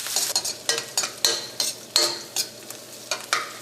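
Onions and curry leaves sautéing in hot oil in a pan, stirred with a spatula: about a dozen sharp scraping strokes at an even rhythm over a soft sizzle, close up, with no voices.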